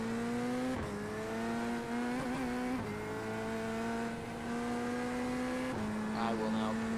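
A Corvette race car engine howls down a straightaway, loud and sustained with steady harmonic tone, dipping briefly at gear changes around one, three and six seconds before climbing again.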